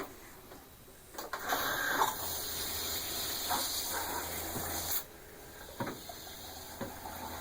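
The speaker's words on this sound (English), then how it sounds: "when I open the cold water valve, the clear water starts, and then the pink antifreeze comes right behind it" Water starts running in an RV shower as the cold valve opens during winterizing of a Rockwood 2304, a steady hissing spray with a few clunks and sputters, cutting off briefly near the end before resuming.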